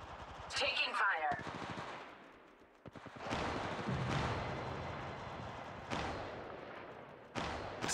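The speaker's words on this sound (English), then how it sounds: "Taking fire." Gunfire from the mobile shooter game Apex Legends Mobile crackles in several sharp bursts, with rapid automatic shots early and scattered louder reports later over game sound effects and a character voice.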